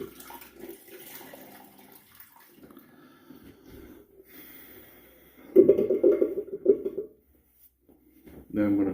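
Tap water runs into a bathroom sink while a man rinses his face after shaving, a soft hiss that swells into louder splashing near the end, with light breathing and snorting.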